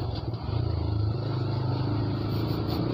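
A motorbike engine rumbles steadily close by with a throbbing low drone and light clatter, holding fairly loud through the whole stretch.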